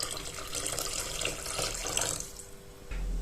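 Kitchen tap running steadily into a sink, a continuous broadband splash that eases briefly near the end, then resumes, while syrup ingredients for traditional melomakarona are measured.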